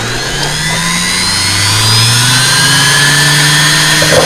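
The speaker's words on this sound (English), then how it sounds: "So that's the wood starting to spin up" A small wood lathe with electronic speed control spinning up to turn a miniature chess piece, giving a loud, steady motor whine that rises in pitch and then holds.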